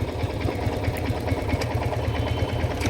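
A motorcycle engine idles loudly and close with a steady, throbbing mid-pitched rumble as the rider shifts into first gear at a riding school.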